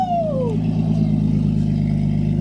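Nissan Skyline R34 running with no exhaust fitted, a loud, raw, rumbling engine drone held steady up close, with a falling whine as the revs drop at the start.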